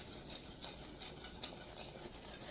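Italian sausage and mushroom pot pie filling stirred in a hot pan, a soft, faint scraping and gentle sizzle with light utensil clinks, quiet and continuous with no talking.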